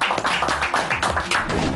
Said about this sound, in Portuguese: palmas pro Heitor Lira